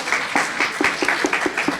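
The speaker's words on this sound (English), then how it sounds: "Give yourself a round of applause." Audience applause at a symposium session, rhythmic clapping with sharp individual claps standing out over a steady crowd patter, moderately loud and continuous for the whole stretch.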